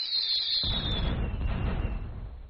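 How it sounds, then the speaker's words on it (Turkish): A fireworks sound effect: a high whistling rise cuts off into a loud, booming burst that rumbles and crackles before fading away. "Havai fişek efekti."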